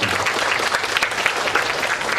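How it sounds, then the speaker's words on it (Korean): Audience applause fills a university debate hall, steady dense clapping from a large crowd, continuous and fairly loud throughout. "박수 부탁드립니다."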